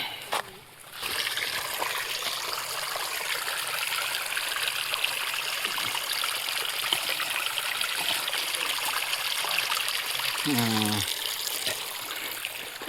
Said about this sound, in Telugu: ఉల్లిగడ్డలకి వాటర్ పెడతాను